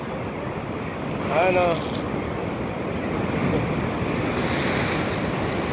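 Strong ocean waves surge and wash continuously along a shore at a fishing spot, a broad roaring rush buffeted by wind noise, with a brief spoken word early on.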